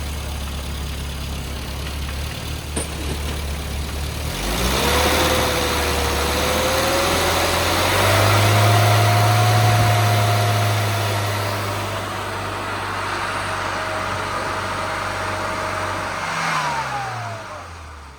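A classic car's engine runs steadily during carburettor fuel tuning, idling and then rising briefly in revs before settling again, loud and close with no talk.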